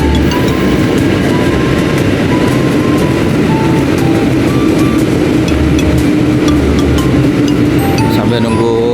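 At Bekasi station, a train rumbles loudly and continuously with rail clatter and squeals while travellers wait for the Argo Parahyangan. Faint background voices mix into the steady station noise.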